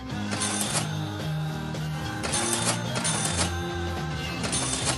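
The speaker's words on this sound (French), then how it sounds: "le son de la caisse enregistreuse." An old supermarket cash register clatters and rings at checkout, with repeated mechanical key presses, whirring drawer and printing mechanism sounds in loud bursts, and background music underneath.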